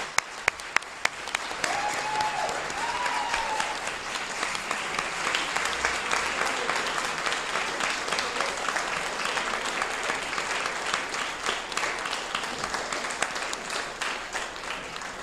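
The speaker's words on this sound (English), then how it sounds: "I think we should give all of the candidates a round of applause." Sustained audience applause for mayoral and town council candidates at a local forum, a few sharp early claps swelling into steady, moderately loud clapping throughout.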